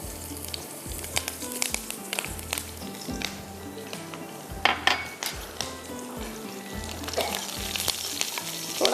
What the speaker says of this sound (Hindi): अब यहाँ पर फ्राई हो चुका है लहसुन और इसमें जाएंगी हरी मिर्चें।